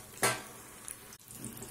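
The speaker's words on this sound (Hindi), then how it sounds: "बाकी बचे हुए सारे बरूले इसी तरह से हम फ्राई कर लेंगे" Potato barule, an Aligarh chaat snack, frying in a pan with a single sharp clatter and burst of sizzle, then a faint, low simmer.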